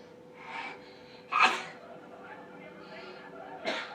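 A single sharp sneeze bursts out close by, with softer breathy sounds before and after it.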